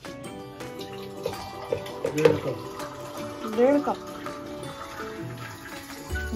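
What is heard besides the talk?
water being poured into pot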